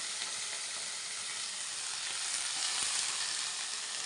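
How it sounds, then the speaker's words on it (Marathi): Garlic and green chillies sizzling in hot oil for a village-style fenugreek leaf dish, a bright, even, continuous hiss with faint crackles, close and steady with no voices over it. "तेल आहे आणि लसूण आणि मिरची टाकते उडते म्हणून मी लांब झाले"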